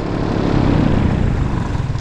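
A paramotor engine runs in flight, a loud, close, continuous propeller drone with a rough throbbing rumble, steady throughout just before being shut off.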